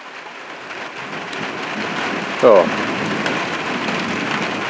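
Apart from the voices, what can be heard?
rain falling after drought, August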